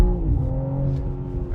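A BMW M3 Touring wagon pulls hard in second gear, its engine note loud and close with a steady, rising drone throughout the short burst.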